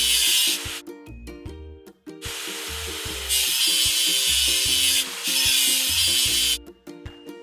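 Abrasive scrubbing of rust off a JCB drilling machine: loud rhythmic rasping strokes at close range, broken by a few brief pauses, with tonal whirring underneath.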